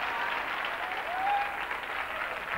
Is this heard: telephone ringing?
no